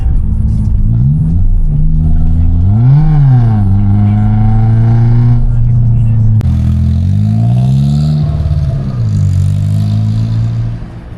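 A naturally aspirated car engine in Colombia revs repeatedly from inside the cabin, a loud, deep drone that climbs and falls in pitch with each throttle blip.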